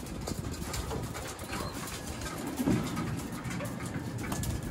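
Vandenbroek pigeons coo softly at a breeder's loft, low murmuring calls rising briefly amid a steady noisy background, with faint wing flutters and no talking.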